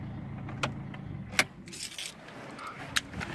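A Citroen C3's engine is switched off with the key, with sharp key jangles and clicks over a low idle rumble that fades away, heard close up inside the car.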